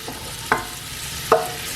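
Pancetta crackles softly in a pan, a low steady sizzle broken by two brief sharp knocks of a utensil being moved around, close and without speech.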